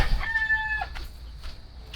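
A rooster crows once in a drawn-out call near the start, with a little clucking around it from many chickens in a poultry farm, then quiet farmyard background.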